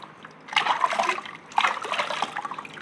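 Water runs and splashes while dogs are bathed, two surges of gushing liquid close by with trickling between, no talk.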